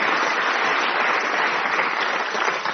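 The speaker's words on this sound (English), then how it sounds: "and this round of applause" Studio audience applause for the winner of a Brain of Britain quiz heat, a steady, even burst of clapping at full level throughout, with no voices over it.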